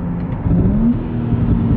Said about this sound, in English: have a couple little burbles